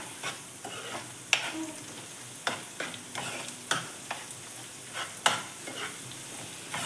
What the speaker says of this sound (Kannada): ಸ್ವಲ್ಪ ಗ್ಯಾಸ್ನ ದೊಡ್ಡದು ಮಾಡಿಕೊಂಡು ಕೈ ಆಡಿಸ್ಕೊತಾ ಇದ್ದೀನಿ